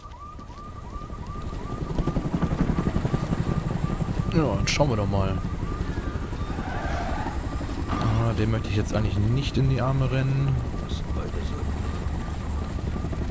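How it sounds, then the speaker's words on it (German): A surveillance drone hovers in Homefront: The Revolution as a steady, loud rotor drone that runs throughout, mixed with siren-like tones and a sharp shot while someone talks over it. "Oh, eine Drohne hinter uns."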